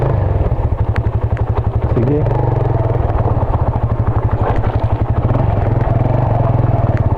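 A motorcycle engine labors loudly and close while climbing a very steep road toward Dolores, its steady chugging pulse continuing throughout as someone speaks briefly over it.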